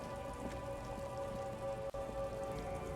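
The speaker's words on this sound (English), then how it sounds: "It's not raining anymore, but it sounds like it's raining." Steady rainfall on hard surfaces in the video game Disco Elysium, a dense continuous patter with a faint background drone, running unbroken except for one brief dip, with no voices.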